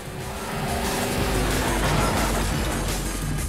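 Car engine droning steadily in Rockstar's first racing game, a continuous mid-pitched motor hum with faint tonal whine, rising slightly then holding, heard alone.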